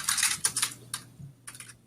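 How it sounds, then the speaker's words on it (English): Keys clatter on a computer keyboard in a quiet room, a few quick bursts of sharp clicks with short pauses between them, close and moderately loud, with no voices. "he's typing in the background"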